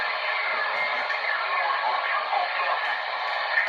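Ham radio audio plays over a speaker as a continuous narrowband hiss and crackle with a faint, muffled voice buried in the static, steady and fairly loud throughout.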